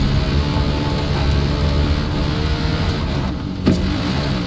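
A road vehicle in Far Cry 5 climbs uphill, its engine giving a steady, close, loud drone with a rough low rumble, running unbroken with no voices.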